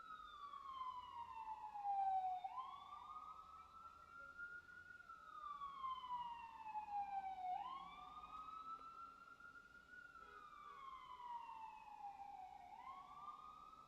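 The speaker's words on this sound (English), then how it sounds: "Damn sirens." Outside, a siren wails in slow repeating rising and falling sweeps, steady and moderately distant, with a second siren tone layered on top.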